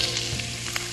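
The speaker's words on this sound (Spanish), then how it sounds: "Mientras se nos va friendo el bacon, que se nos va tostando ahí" Bacon frying in a pan, a steady close sizzle with soft crackles and small pops, alone with no talking.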